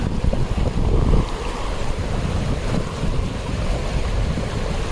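Fast-flowing, muddy river water in flood rushes in a steady, loud, broadband roar, with rumbling low churn and wind buffeting, during a jeep river crossing near Jim Corbett National Park.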